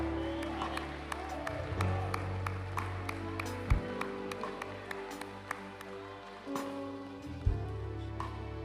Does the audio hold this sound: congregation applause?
yes